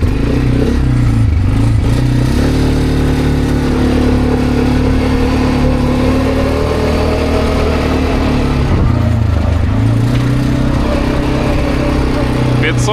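A Bashan 300 ATV in low gear hauls a trailer loaded with about 600 kg, its engine droning loud and steady at constant low revs with a rumbling, slightly rising and falling pitch.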